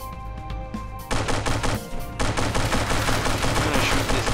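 Rapid bursts of automatic gunfire from the From The Depths game crackle densely and loudly, with a brief dip before the shooting resumes and continues steadily to the end.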